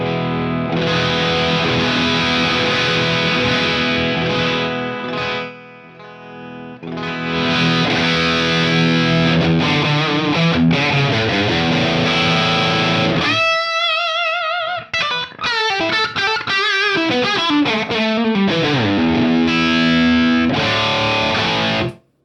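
Electric guitar played through a Flattley FX Plexstar overdrive pedal modeled on a JTM-45, with crunchy distorted chords and single-note runs ringing out loud and sustained, a brief drop near the middle, no voices.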